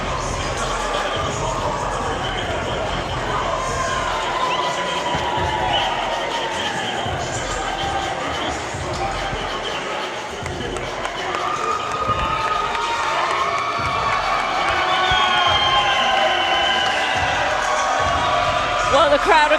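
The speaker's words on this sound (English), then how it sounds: "the crowd are going absolutely wild here at York Hall as Andrei Dascalu is victorious" A boxing crowd at York Hall cheers and roars continuously after a stoppage victory, a loud, dense wall of shouting and applause that swells toward the end, with a commentator talking over it.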